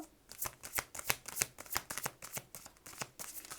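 Tarot-style cards are shuffled by hand during a card reading, a quick run of crisp riffling slaps and flicks repeating in an irregular rhythm, close and fairly quiet.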